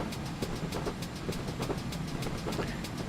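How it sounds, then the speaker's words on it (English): A steam locomotive in a Train Simulator game rumbles steadily with a regular rhythmic chuff and clatter, close and continuous throughout with no talking. "Makes the best noises, this engine."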